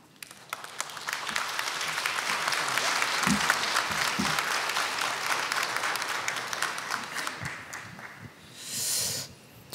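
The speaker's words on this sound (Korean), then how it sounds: "우리 목사님 나오실 때 박수로 환영하겠습니다." A church congregation applauds to welcome the pastor, a dense sustained clapping from a large crowd that swells and then fades, with a brief burst of noise near the end.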